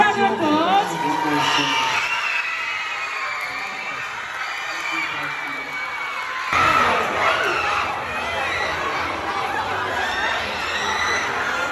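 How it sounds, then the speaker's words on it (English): A school audience at Sheffield Springs Academy, at a touring school show, erupts in loud, sustained cheering, whooping and children's shouts mixed with clapping. The noise surges again midway and stays busy and dense to the end. "give him a massive round of applause!"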